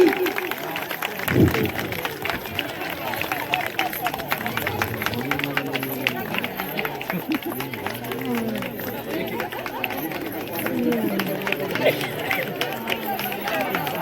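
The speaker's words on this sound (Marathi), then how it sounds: "चिअर्स करा सगळ्यांनी जोरदार टाळ्या वाजवायच्या याच्यासाठी." A crowd at a Women's Day contest claps and cheers steadily, dense hand claps mixed with lively chatter and shouts for the full stretch, close and fairly loud.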